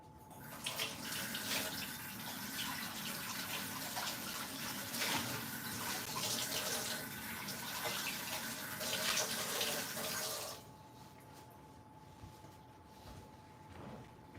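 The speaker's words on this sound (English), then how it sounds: "Let me wash the bowl really quick." A bowl being rinsed under a running kitchen tap, with steady splashing water, close and fairly loud, that stops abruptly near the end and leaves a quiet room.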